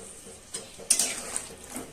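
Spice masala frying in a pan while being stirred, for a cauliflower and egg curry: a soft, steady sizzle with scraping strokes of a utensil against the pan, one sharper clatter in the middle, and no talking.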